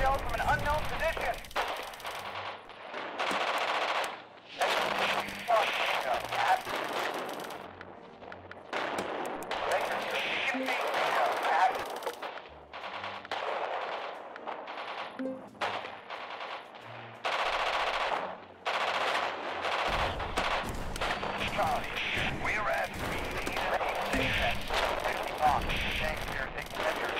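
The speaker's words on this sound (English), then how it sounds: "the artillery's coming from down there" Artillery shelling and machine-gun fire rattle through the Radio General war strategy game during an assault near Groningen, with dense bursts of gunfire and booming impacts as voices talk over the battle.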